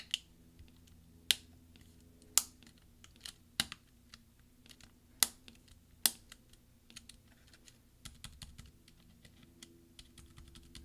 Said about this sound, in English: press down until you hear all the snaps from the various clips underneath it that need to click in